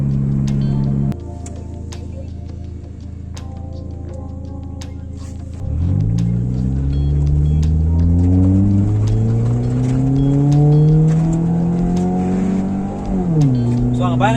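A stage-tuned, modified Hyundai i10 idles loudly, then launches at full throttle with the engine note climbing steeply. The revs drop briefly at a gear change near the end, then rise again, all close and loud inside the car.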